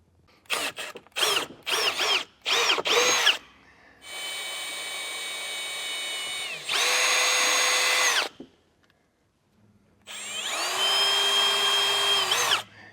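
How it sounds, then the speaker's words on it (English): A power drill with a step bit bores a hole for a trailer brake controller mount, first in several short stuttering bursts, then two long steady whines and a final sustained run, loud and close with no talk. "And now I can drill a hole out right there"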